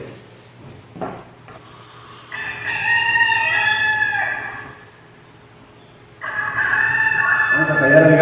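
A rooster crows twice, long rising-and-falling calls fairly close and loud, with a short knock and brief faint sounds in between.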